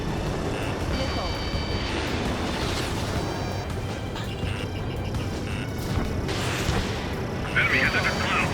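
In the Ace Combat 7 jet combat game, a missile launch and blast sit inside a constant loud roar of engines and rushing air, with radio voices talking over it throughout.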